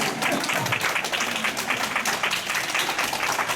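A congregation claps during a Sunday morning church service, a short burst of close, rapid applause lasting a few seconds.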